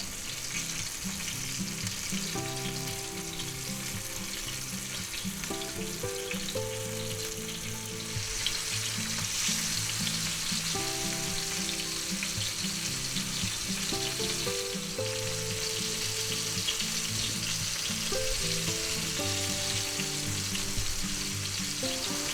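Chicken pieces for sweet and sour chicken frying in hot oil, a steady close bubbling sizzle for the whole stretch, under faint background music.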